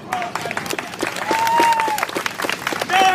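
Crowd applause at an outdoor street performance in Battery Park, a loud continuous clatter of many hands with cheering and whistles woven through, building toward the end.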